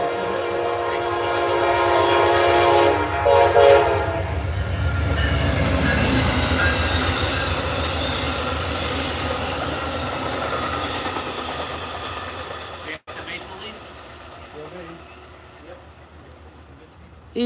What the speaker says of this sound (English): Amtrak